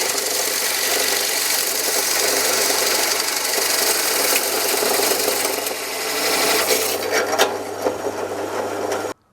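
A power drill bores steadily through a piece of wood in a woodworking shop, a continuous grinding whir that holds for about nine seconds before stopping abruptly.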